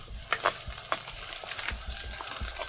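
Dry spices, onion, garlic and ginger fry in a pan on the stove, giving a quiet, steady sizzle with a few sharper crackles and stirring scrapes, no voices.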